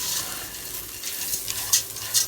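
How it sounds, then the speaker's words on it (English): Lentil stew with garlic powder and salt sizzles softly in a pot, a steady close hiss with a few brighter crackles and no talking. "And that's just sizzling softly."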